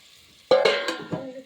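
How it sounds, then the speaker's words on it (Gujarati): Spices hitting hot oil while tempering for khichdi with potatoes and pigeon peas: a sudden close sizzling burst with a clink, quickly settling into a softer crackle. "ખીચડી વઘાર."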